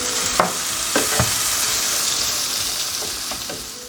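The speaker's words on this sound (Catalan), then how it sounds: "amb el mateix oli i amb el foc fort, és hora de posar-hi la sèpia" Cuttlefish hitting hot oil in a casserole over high heat after meatballs were fried in the same oil, a loud continuous sizzle close up with a few sharp spatters and stirring knocks.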